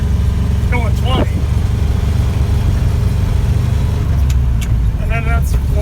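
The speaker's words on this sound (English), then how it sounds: "This thing is so slow, but I love it. So that's like fourth gear, or no, that's third gear, going 20." A 1967 Chevrolet C50 dump truck drives in third gear at low speed, its engine droning steadily and loud throughout while people talk briefly over the noise.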